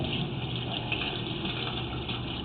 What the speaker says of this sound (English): There is water pretty much constantly running down this pipe